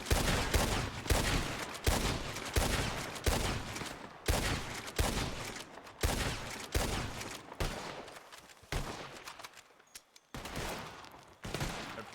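Rapid gunfire in the Red Dead roleplay game WildRP, with repeated loud bursts of shots cracking in quick succession and a brief lull near the end before firing resumes.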